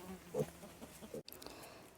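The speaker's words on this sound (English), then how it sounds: "Look at that little bee." A small bee buzzes among tomato plants in a home vegetable garden, a soft, faint drone that swells briefly near the start and fades, with light outdoor background noise and no talking.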